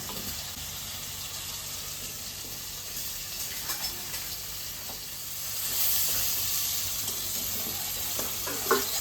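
Mustard oil heats in a frying pan, ready for prawns. A steady, soft hiss swells slightly midway, with a few faint clinks near the end and no talking.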